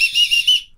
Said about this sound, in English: Signature whistle.